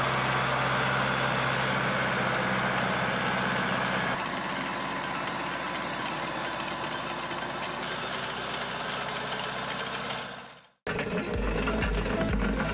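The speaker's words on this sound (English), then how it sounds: "A tiller that grinds and mixes the soil at the same time." Tractor-mounted tiller with a 140-centimetre working width grinding and mixing soil, a loud steady droning roar with rattling mechanical churn, cutting out abruptly near the end.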